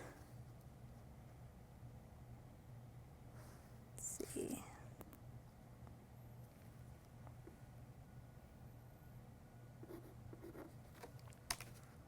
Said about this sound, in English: And parchment paper, you can just write on it.